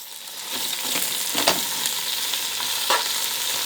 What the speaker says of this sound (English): So I will stir fry my vegetables.